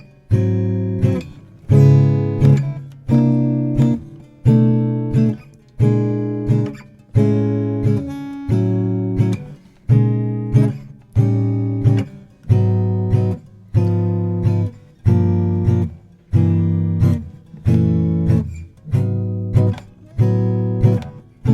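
Guitar chords comping through a blues progression with added notes on the second string, steady rhythmic hits that ring briefly before each next chord, close and alone.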